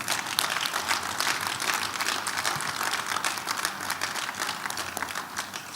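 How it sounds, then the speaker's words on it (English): A crowd at a sickle cell foundation blood donation drive and art exhibition claps for themselves, a thin, continuous patter of many hands at moderate distance, with no voices over it. "Please clap for yourselves again"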